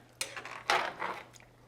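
A utensil stirring shrimp in a simmering shrimp boil pot, giving a few close scraping, clattering strokes with brief pauses between them and no talking.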